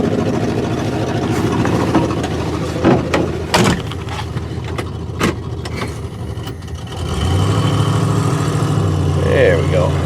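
A vehicle's engine idles with a few knocks and clicks, then pulls away and runs louder and steadier as it is driven down a driveway, close by.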